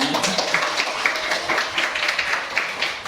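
A fifth-grade classroom of pupils claps together after answering correctly, a busy, even patter of many small hands with faint room noise, moderately loud throughout.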